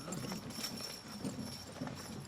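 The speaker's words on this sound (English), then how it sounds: "That pair of bay horses right there" A pair of bay horses pulling a carriage clip-clop along the road, their hooves falling in a steady, soft, quiet rhythm against faint background noise.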